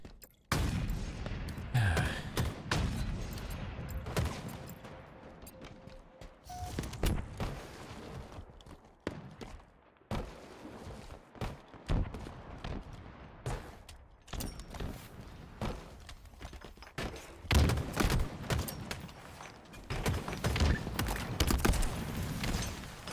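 Repeated grenade blasts and gunfire in a Halo tournament match, a rapid, irregular string of sharp bursts that stays fairly quiet throughout, with no voices.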